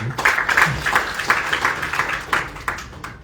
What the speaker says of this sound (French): Des applaudissements pour Maître Arif.